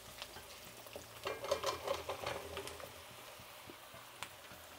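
Pumpkin pieces drop into a pan of frying onions for a Telugu sour curry, giving a soft burst of sizzling and stirring in the middle that fades back to a faint low fry.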